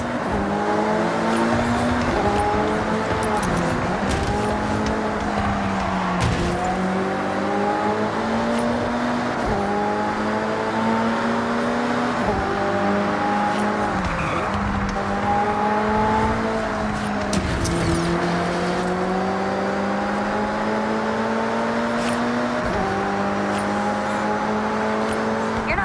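Race cars in the video game Forza Horizon 6, engines revving continuously with repeated rising gear-shift sweeps, loud and steady throughout, with a faint voice briefly in the background.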